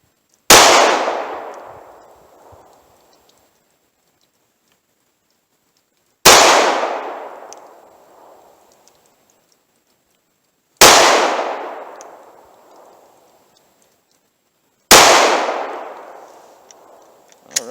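Four slow-fire 9mm pistol shots with Underwood Xtreme Defender rounds, each a sharp, loud crack with a ringing decay, spaced about four to six seconds apart with silence between.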